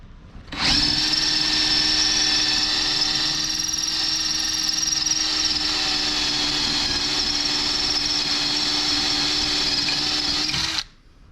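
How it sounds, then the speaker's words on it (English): Power drill boring holes through the ends of metal pieces for bolts, a loud, close, steady high whine that starts abruptly, holds constant for about ten seconds, then cuts off. "Drilling some holes in the ends of them so that we can put the bolts through"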